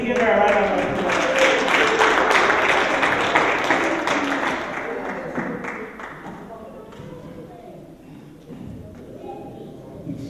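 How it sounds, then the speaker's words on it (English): An audience at an Uka Ndi Igbo event in New York applauds a Rwandan genocide survivor, steady clapping that gradually thins and fades, with voices mixed in toward the end. "Please give her a round of applause."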